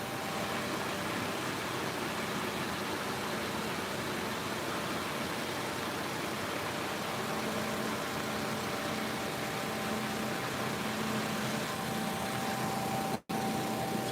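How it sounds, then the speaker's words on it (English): A 2006 Honda CR-V idles steadily while its AC compressor runs, giving a faint, even hum and hiss with a thin tone entering late, then a sharp click as the clutch cycles near the end. "Compressor, clutch is cycling correctly."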